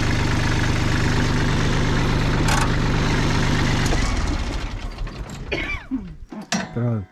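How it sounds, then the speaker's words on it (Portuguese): A tractor engine idles during olive grove clearing on a slope: a steady, loud low drone with a mechanical rattle for about four seconds, then the tone thins out into uneven clanking and brief squeaks. "agora é posicionar aqui o trator"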